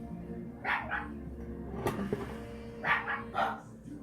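A dog barks indoors: a couple of short yips, a louder sharp bark midway, then a few more barks near the end, moderately close over a low background hum.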